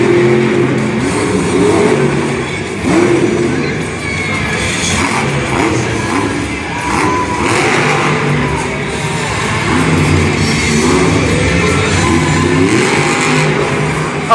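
Monster Jam truck Dragon's engine revs loud and sustained through its freestyle run at a San Diego stadium event, a continuous roar with a crowd murmuring beneath it.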